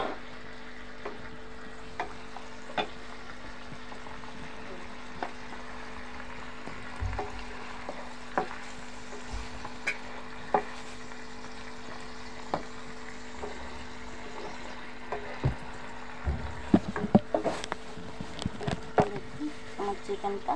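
Chicken for a crispy chicken roll frying in a pan, a steady low sizzle with scattered sharp clicks and stirring scrapes, growing busier toward the end.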